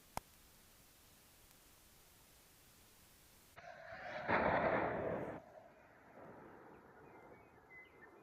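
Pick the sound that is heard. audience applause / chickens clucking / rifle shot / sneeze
rifle shot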